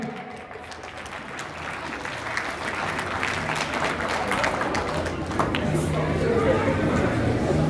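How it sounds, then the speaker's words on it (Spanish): A crowd at a quinceañera claps steadily, the applause swelling gradually louder over several seconds, with faint voices and chatter mixed in. "Ahora aplauso también para los padrinos también."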